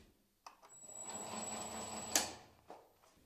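Mini lathe converted to CNC, its motor running with a steady whine and faint tonal hum under a soft broadband whir, ending with a brief sharp clack before it winds down.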